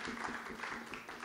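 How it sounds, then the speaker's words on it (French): Steady applause from an audience at an evening festival introduction at La Belle Electrique, a close, continuous wash of clapping with a faint voice underneath. "on peut applaudir"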